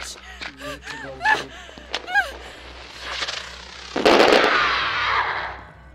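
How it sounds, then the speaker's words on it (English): In the video game Crimson Snow, voices exclaim, then a burst of firecrackers explodes with a sharp crackling bang that trails off into a hissing fizz. "She hit her with some firecrackers."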